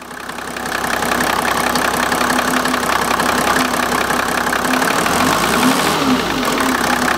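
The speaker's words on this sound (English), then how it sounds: "when you raise the RPM" A Mercedes-Benz engine runs close by during an engine speed sensor test, a loud steady hum with a slight change in pitch toward the end as the revs are raised.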